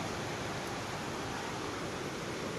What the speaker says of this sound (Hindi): सन्न सन्न बारिश हो रही है, सन्न सन्न।